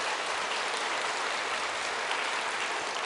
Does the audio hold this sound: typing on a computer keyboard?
no